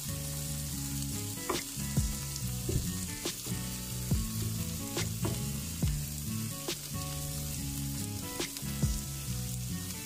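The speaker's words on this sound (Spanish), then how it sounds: "Y vamos a dejar que se continúe pochando todo junto unos minutos más." Vegetables sautéing in a frying pan for a Spanish tortilla paisana, a steady close sizzle with regular scraping and clicking strokes as they are stirred.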